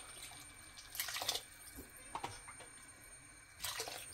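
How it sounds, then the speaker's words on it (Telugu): Water is poured into rice for veg pulao, giving soft splashing and trickling bursts that come and go at a low level in a quiet kitchen. "నేను ఇప్పుడు ఈ రైస్ లోకి 4 గ్లాసెస్ వాటర్ వేసుకుంటున్నాను"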